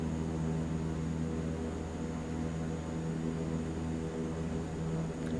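A steady, loud engine drone from a simulated Super Scooper water-bombing aircraft coming in to land in Microsoft Flight Simulator 2024, a constant hum with no change in level across the whole stretch.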